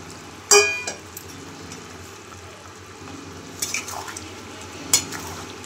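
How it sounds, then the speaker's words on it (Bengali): Peas and fried eggs are stirred through a cauliflower egg curry in a pan, giving a couple of sharp utensil scrapes and knocks over a low, steady background hiss. "দিয়ে ভালো করে আমি নেড়ে ছেড়ে দিচ্ছি"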